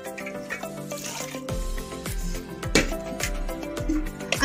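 Water poured into a pot of cooked peas and rice, a liquid splashing and gurgling that swells partway through, with music playing underneath.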